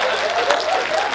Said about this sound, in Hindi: हाथ उठा के तालियां बजा रहा।